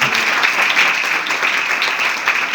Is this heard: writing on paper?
no